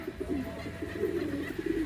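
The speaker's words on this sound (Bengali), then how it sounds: "এটা একটা নর কবুতর" A male pigeon coos repeatedly up close at a pigeon farm, a low throaty warbling that rises and falls in soft rhythmic bursts.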